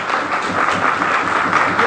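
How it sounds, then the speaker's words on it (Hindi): An audience claps for Naresh at a business seminar, a dense, even round of applause that stays steady throughout with no voices rising above it. "नरेश सर के लिए मैं ताली चाहूंगा प्लीज।"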